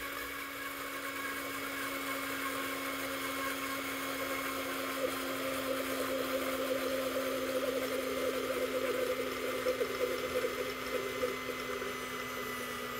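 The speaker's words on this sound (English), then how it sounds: "I just do mine in a blender." A blender whirs steadily close by as vegetable oil is drizzled in, a constant motorized drone with a liquid churn under it and no talking.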